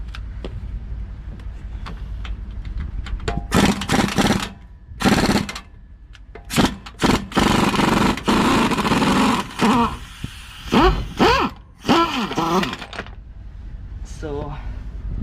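A 17 mm bolt on the rear shock of a 2007 Toyota Tacoma is worked loose, with repeated bursts of rapid mechanical rattling and clatter from a tool, separated by short pauses, while a voice talks in between.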